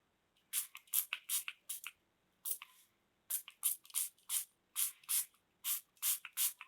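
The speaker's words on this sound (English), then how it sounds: "or else just spray it down, drag it towards the side." A hand spray bottle mists water onto watercolor paper in a run of about fifteen sharp, hissing spritzes, some clustered quickly and some spaced apart, close and clear with no talking.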